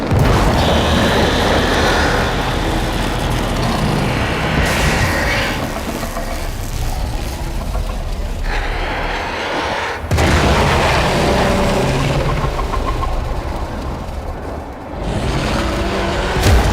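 Explosions roar in the Warframe video game during the Heart of Deimos quest, a dense, loud rumbling wash of booms and blasts that swells and drops in several waves across the stretch, with no talk.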